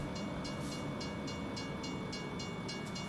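A steady rumbling train in a racing video game at Hickory Motor Speedway, with a rhythmic clatter of wheels, runs continuously, loud and close, with no talking.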